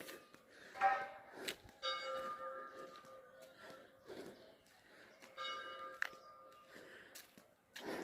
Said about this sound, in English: they is together for morning prayer, so they ring the bell.